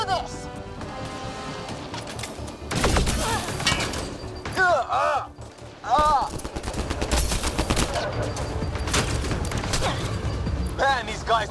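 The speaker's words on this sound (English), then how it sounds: "Just keep firing, we can do this!" Sustained automatic gunfire and explosive crashes fill a chaotic Mass Effect: Andromeda battle, loud and continuous with shattering impacts and tonal sci-fi effects layered throughout, and voices calling out over the combat.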